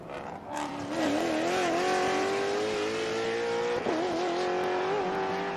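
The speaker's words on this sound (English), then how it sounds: "Those Maseratis sound really great." Maserati race cars roar past on the track during a Trans Am Series race at Sebring, with loud sustained engine tones rising and bending through gear changes, close and continuous with no voices.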